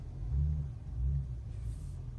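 A 400 HP BMW 335i rumbles and surges through a parking garage while drifting, its deep low engine note swelling in two heavy pulses and echoing off the concrete, with a faint high tire squeal near the end.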